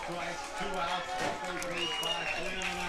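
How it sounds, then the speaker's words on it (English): Baseball crowd in Lima at a championship game cheering and clapping steadily, a dense continuous wash of noise with a commentator talking over it throughout. "Fans are making noise and clapping their hands here in Lima"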